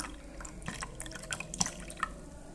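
Sodium hydroxide solution poured into iron(III) oxide, heard as scattered small drips and liquid splashes, faint and close, with brief sharper drops near the end.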